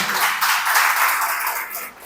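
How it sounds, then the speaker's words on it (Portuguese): A church congregation claps for the Lord during a worship service, a dense continuous wash of hand claps filling the room, steady and fairly loud before easing slightly at the end. "Aplauda o Senhor, queridos."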